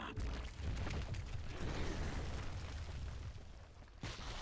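In StarCraft II, mag mines detonate under a swarm of locusts, making a dense, continuous rumbling roar of overlapping blasts that holds steady for several seconds, then cuts briefly before a last burst.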